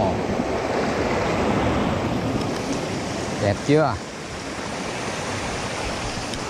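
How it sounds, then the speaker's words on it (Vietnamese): Water at Savin falls in Khanh Hoa rushes steadily, a continuous loud roar of the falls and stream, with a voice briefly speaking over it. "thác đẹp quá. Suối, suối thác."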